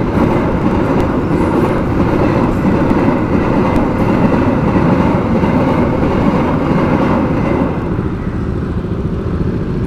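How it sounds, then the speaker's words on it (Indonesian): A heavy container freight train rumbles past close by, loud and continuous with rolling wheel clatter, easing slightly near the end. "Wow, kereta barang, kereta peti kemas"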